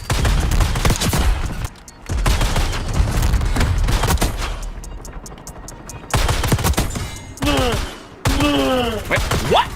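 Rapid automatic gunfire with explosive bullets in the Black Ops 6 video game, loud sustained bursts broken by short pauses, with sharp cracks and whistling ricochet-like sounds near the end.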